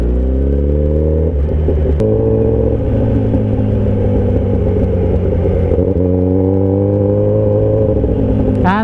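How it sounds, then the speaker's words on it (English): A Kawasaki Ninja ZX10R superbike engine rumbles loud and close, idling with a steady drone before several sharp revs rise and fall, with a final quick blip at the end. "And the first rev bombs."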